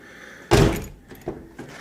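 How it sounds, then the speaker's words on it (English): A door handle on a Toyota Tacoma is worked during a repair, giving one loud, close mechanical clunk followed by two fainter latch clicks. "We're going to test the door handle itself to make sure that it functions."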